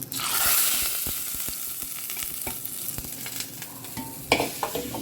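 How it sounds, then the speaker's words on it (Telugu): Tempering spices hit hot oil in a pan for a South Indian charu, bursting into a loud hiss that eases to a steady sizzle with scattered pops and the scrape and clink of stirring. "ఇక్కడ చూడండి పోపు వేసుకుందాం"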